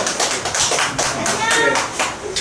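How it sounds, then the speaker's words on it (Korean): A church congregation at an afternoon worship certificate ceremony claps together, a loud, close, continuous patter of many hands with slight swells, and faint voices mixed in. "우리 박수 한번 해주시죠."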